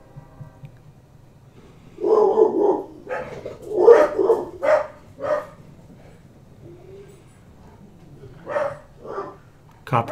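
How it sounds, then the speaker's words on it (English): A dog barks outdoors at contrails in an irregular series of loud, sharp barks and yips, clustered in bursts with brief pauses, and a second dog joins in. "he has no idea what she's barking at"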